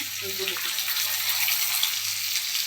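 Tomatoes and onions sautéing in a pan for a bottle gourd chutney make a continuous, even hiss and sizzle, with a brief voice at the start.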